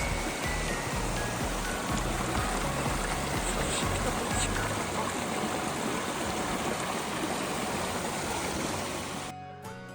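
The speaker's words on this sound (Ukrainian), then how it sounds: "це вже не потічок, це вже ціла річка гірська" A mountain stream runs swollen like a small river in rainy weather, a loud steady rush of water with rain noise throughout, dropping out abruptly near the end.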